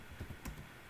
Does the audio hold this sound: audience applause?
no